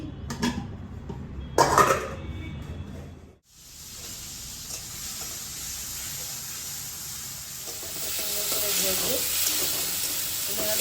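Prawns lightly frying in a pan at home, a soft steady sizzle that swells after a few clanks of utensils and a short quiet moment, with faint background noise throughout.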